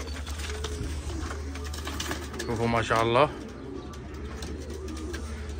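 A pigeon, one of a newly arrived batch of young birds, coos close by with a short burst of throaty warbling, while someone speaks over a steady low hum.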